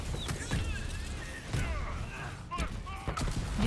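Repeated explosions in Dragon Age: Inquisition Trespasser, a rapid string of booming blasts every half second or so over game music and tonal effects.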